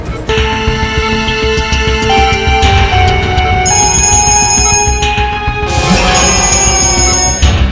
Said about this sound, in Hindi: डीसीपी चित्रोले साहब का बार-बार फोन आ रहा है।